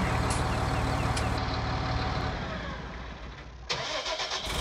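A JCB Fastrac 4220 25th anniversary edition tractor in Farming Simulator 19 cranking and starting, a dense engine roar that dips, then catches again with a sharp onset and settles into an uneven idle.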